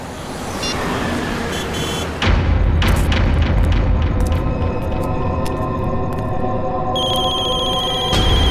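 Several telephones ring at once amid a flood of incoming calls in a CID crime drama scene, repeated electronic rings layered over a heavy booming dramatic score.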